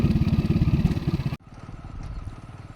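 A motorcycle engine putters with a steady, pulsing rhythm as it rides toward a vegetable market, loud and close at first, then dropping abruptly to a quieter, continuous drone.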